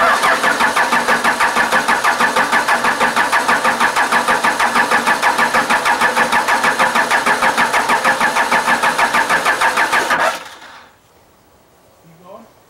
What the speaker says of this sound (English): Alright, give her a couple of cranks.